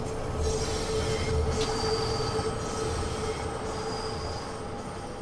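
A Train Sim World 4 metro train runs steadily with loud, continuous rumble and rail noise, plus faint intermittent wheel squeal.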